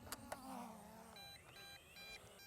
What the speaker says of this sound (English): the controller's beeping, letting us know that fun is almost to an end